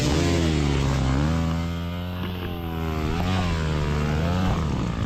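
A dirt bike engine drones and revs as it plows through the woods during a junior motocross race, a loud, close, buzzing tone that dips briefly and then climbs again, with no voices.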